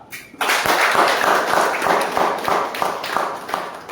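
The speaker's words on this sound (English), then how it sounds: "So I want all of you to give a huge round of applause for that." Toastmasters club audience clapping after a member's speech, starting abruptly and continuing as fairly loud, close handclaps with distinct individual claps audible in an uneven patter.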